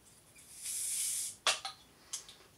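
A homebrew bottle of Woodforde's Wherry beer opens with a soft, sustained gas hiss, then a sharp pop and a few quick fizzing bursts, all faint and close.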